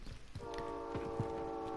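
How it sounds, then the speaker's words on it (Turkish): A train in the Call of Duty Warzone video game rolls past with a steady sustained horn-like tone over rumbling, clattering wheels, fairly close and continuous. "Tren geliyor."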